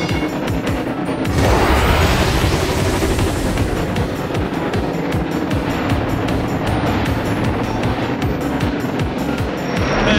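Toy train engine starting up and racing in the Thomas & Friends Go Go Thomas racing game, a loud continuous revving rush that swells after the first second and holds steady to the end, with no talk.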